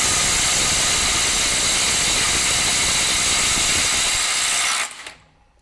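A FLEX 24V compact impact wrench on a 6 amp hour stacked lithium battery, set to 600 foot-pounds, hammers a smaller fastener loose: a loud, continuous, close rattling whir for about five seconds that then cuts off abruptly.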